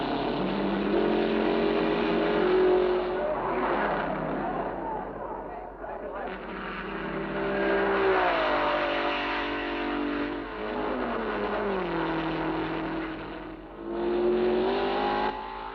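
Race cars lapping the Sarthe circuit at the 1959 24 Hours of Le Mans, engines droning and rising and falling in pitch as they pass, heard under continuous commentary.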